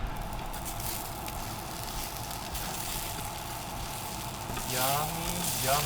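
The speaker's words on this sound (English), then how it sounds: "Let's get a little soundbite of that crackle." Hash browns fry in a hot pan, giving a steady close sizzle with fine crackling and popping throughout, briefly swelling louder near the end as the food is stirred or shifted.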